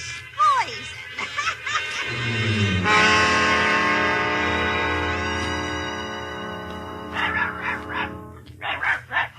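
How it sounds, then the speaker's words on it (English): A dog in a radio drama of The Wizard of Oz barks and yaps in short bursts around a long sustained tone, with laughing sounds mixed in and little clear speech. "Look, it's Dorothy's dog."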